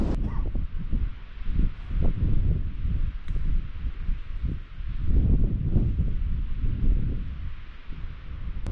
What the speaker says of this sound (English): A bit windy here, so let's get going.